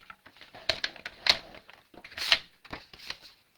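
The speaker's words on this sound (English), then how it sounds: "I'm just cutting my cardstock in half, one direction, and then scoring at 4 1/4." Cardstock cut in half and scored for a card base, a string of close, crisp paper snips, slides and taps at an uneven pace.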